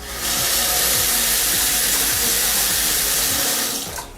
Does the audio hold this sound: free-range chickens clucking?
no